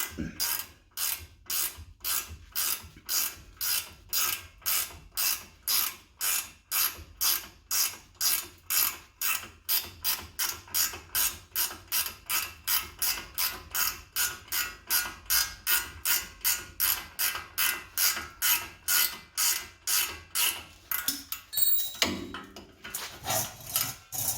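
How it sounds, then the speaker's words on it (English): A ratchet wrench loosens the ball joint nut on a Ford F150 with rapid, even clicks repeated dozens of times, close and fairly loud, before a brief clatter near the end. "Ford was nice enough to make it hex head so you can put a wrench on there"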